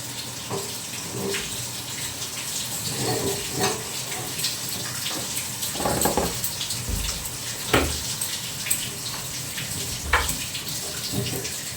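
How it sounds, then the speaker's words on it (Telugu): Water runs and splashes while a kitchen counter is washed down during home cleaning, a steady tap-like flow with scattered louder splashes and wiping bursts, close and continuous with no talking. "కిచెన్ బండి కూడా కడిగేసి"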